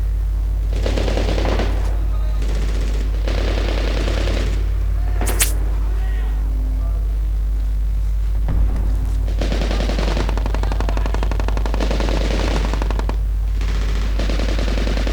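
Machine-gun fire from the Medal of Honor Warfighter video game, loud sustained automatic bursts in several long stretches with short gaps between them, over a constant low game rumble.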